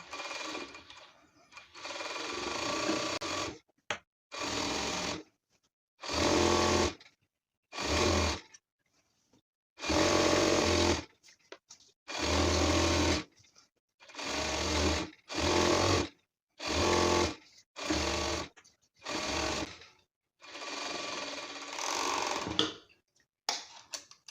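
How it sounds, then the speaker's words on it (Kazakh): An overlock sewing machine hems a stretch velour chair cover in repeated loud bursts of stitching, each run a second or two long and broken by short pauses, close up and alone with no voices. "Мен оверлоктап алып, бір қайырып тігемін."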